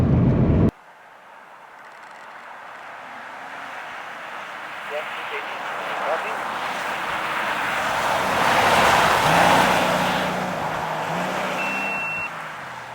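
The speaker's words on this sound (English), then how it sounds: "this is just pure ice. You can see it and hear it under the spikes" A Porsche 911 fitted with WRC rally spikes drives over pure ice on a compacted snow and gravel forest track, a steady broadband rush of studded tyres and engine that swells toward the middle and then eases.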